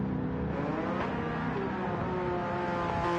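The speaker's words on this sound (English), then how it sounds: "the Porsche speeds right by the AMG, moving at a measly 70 kilometers per hour" Race cars in Gran Turismo drone along with a steady engine whine, a sustained mid-loud motor tone that shifts slightly in pitch as the cars run, with no voices over it.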